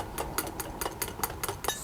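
Caustic soda solution stirred in a glass jar for homemade soap, a quick regular series of bright clinks as the utensil strikes the glass, close and quiet with no talking.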